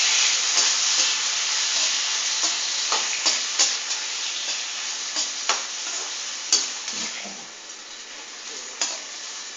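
Steady sizzling of tomatoes sautéing in a hot pan, with a spoon stirring and scraping at irregular intervals; no voices.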